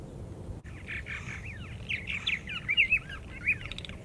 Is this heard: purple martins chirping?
yes